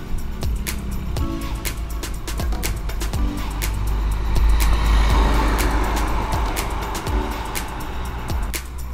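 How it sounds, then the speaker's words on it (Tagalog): Large dump trucks rumble past on the Star Tollway-Pinamucan Bypass Road, a heavy low roar that swells to a peak and eases off, heard from beside the roadway with wind noise. "Lalaki po ng mga truck na dumadaan."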